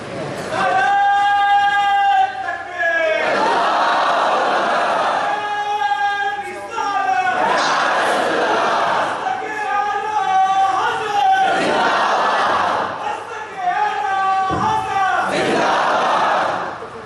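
A large crowd at a religious gathering chants slogans in unison, loud and sustained, in several long drawn-out call-and-response bursts with brief pauses between them.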